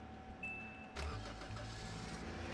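A truck engine strains in the Roblox game Lumber Tycoon 2, with a low, steady drone that jumps louder about a second in and keeps grinding on evenly, with no voices.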